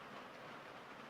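Heavy rain pours onto a shed roof as a dense, steady wash of hiss and patter, loud and unbroken throughout.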